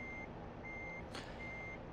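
Truck reversing alarm in American Truck Simulator, three evenly spaced high steady beeps over a low idling engine rumble, with a short hiss of air in between.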